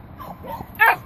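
A small dog gives one short, sharp yip near the end after a few soft whimpery sounds, close by in a quiet room.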